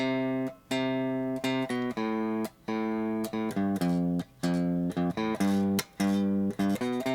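A root note followed by notes walking down to a major sixth, played as a series of clear, sustained pitched tones separated by brief gaps, loud and alone.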